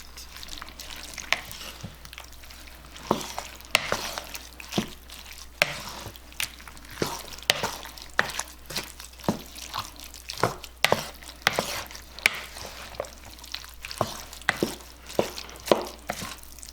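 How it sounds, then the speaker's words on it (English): A spoon stirs creamy chicken, rice and mushroom casserole ingredients in a pan, making repeated wet scraping and clinking strokes in an uneven rhythm over a faint sizzle, close and clear with no talking. "Let's stir this all up."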